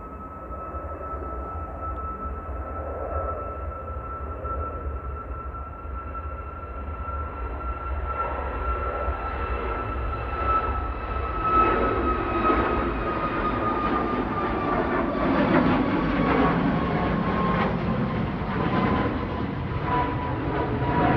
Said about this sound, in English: Right, it's finally on the roll.